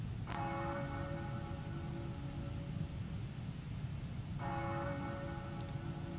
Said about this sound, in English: the bell toll is kind of a long sound